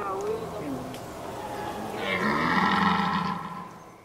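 Red deer stag bellowing during the autumn rut, a drawn-out rough roar swelling in the second half over steady ambient background noise, fairly distant.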